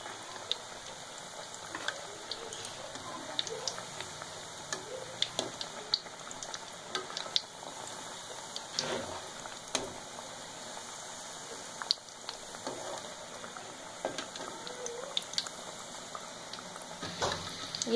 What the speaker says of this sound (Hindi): ये फिश हमारी फ्राई हो चुकी है।